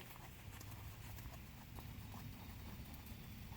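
Hooves of a ridden horse clip-clopping steadily around an arena circle, a regular rhythmic beat of footfalls over loud steady wind and background rumble, with no talk.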